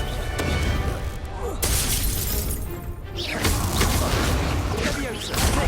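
A blasting-spell explosion in Hogwarts Legacy, the Confringo curse, crashes and shatters amid a busy fight, with repeated bursts and debris over several seconds and a voice calling out spells.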